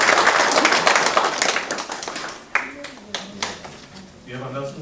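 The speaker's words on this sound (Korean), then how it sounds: "박수 한번 힘차게 부탁드립니다." Applause from the audience at a village residents' general meeting in Gapyeong, a dense burst of clapping that fades out into a few scattered claps, with a voice talking as it tails off.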